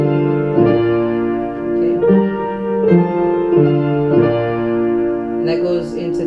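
Piano playing a descending walk-down ripple leading into the next section of a gospel song, sustained chords stepping down in a few clear moves, played alone at steady moderate loudness.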